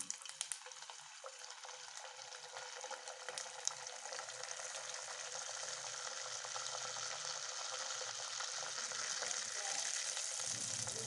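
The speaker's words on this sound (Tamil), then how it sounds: "இது வந்து மீடியமில் வச்சு கொஞ்சம் ஃப்ரை ஆகட்டும்" Traditional Palakkad coconut vada (thenga vada) frying in hot oil over medium heat, a steady, dense hiss of bubbling oil that holds for the whole stretch with no voices.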